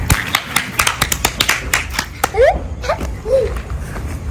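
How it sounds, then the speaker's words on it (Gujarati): Hands clapping in a quick, uneven rhythm of sharp nearby claps, followed by brief vocal sounds and squeaky cries near the end. "તાળી તો પાડ હવે"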